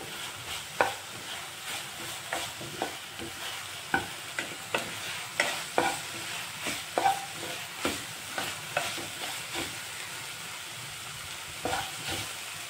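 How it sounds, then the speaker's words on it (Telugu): Onions fry to golden in a pan for a chole masala curry, giving a steady sizzle broken by repeated scraping stirs at an uneven rhythm, close and fairly loud with no voices. "గోల్డెన్ కలర్లో వేయించుకుందాం లైట్గా"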